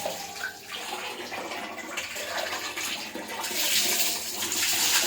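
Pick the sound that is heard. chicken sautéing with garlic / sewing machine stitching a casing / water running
water running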